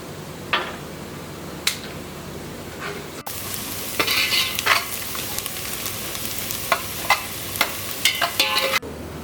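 Onions fry toward golden brown in a pan for pork qurma, a steady close sizzle broken by sharp clicks and scrapes of stirring, louder and busier in the second half.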